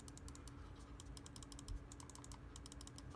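Side buttons of a Logitech G Pro X Superlight 2 gaming mouse clicking in quick bursts of crisp, faint ticks over a low background hum.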